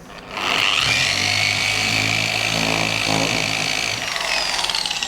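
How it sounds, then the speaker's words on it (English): A Swartz Tools 21mm dual action polisher sands a panel with a 1500 grit disc, giving a steady, loud, whirring motor drone that holds evenly for several seconds after a quick spin-up. No talking. "So I'm just going to sand a little bit of this panel using dual action polisher. And this is the 21mm Swartz Tools polisher."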